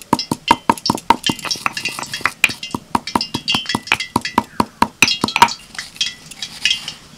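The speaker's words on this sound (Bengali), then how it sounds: "মৌরিগুলো এরকম একটু ভেঙে ভেঙে নিতে হবে।" Roasted fennel seeds are crushed with rapid, evenly spaced sharp knocks, close and crisp, a steady run of strikes that loosens slightly toward the end.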